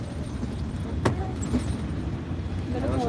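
A car drives past on a street in Cuauhtémoc, Chihuahua, a steady low engine and road rumble held throughout, close and fairly loud, with a brief jingle of keys partway through.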